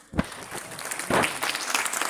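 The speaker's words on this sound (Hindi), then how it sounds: "तालियां अभी बजनी चाहिए था।" An audience applauds at a Mi Lifestyle direct-selling company event in India, with a brief burst of clapping that swells and continues steadily for a couple of seconds.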